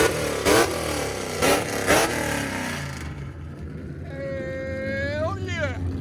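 Chip Foose special Ford Mustang GT with a Procharged supercharged V8, headers and straight pipes, revving in several sharp bursts that rise and fall, loud and close, with someone talking over it.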